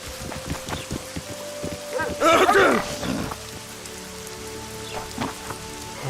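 Steady rain in The Witcher 2 patters and splashes on a surface, with a louder burst of splashing near the middle and faint scattered sounds underneath.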